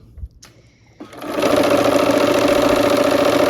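Following a few soft clicks of handling, a sewing machine starts up and hums at an even, close pace, stitching along the edges of a quilt block.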